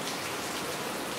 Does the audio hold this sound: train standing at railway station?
no